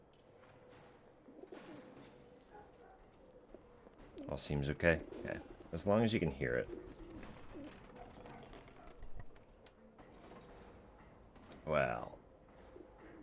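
Caged birds coo in a coop in a video game, soft repeated calls sitting under ambient game sound while people talk intermittently over them.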